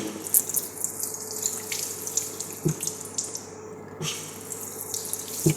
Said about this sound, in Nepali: अनि यहाँ छुँदाखेरि आउने रहेछ, नत्र पनि पानी आउँदैन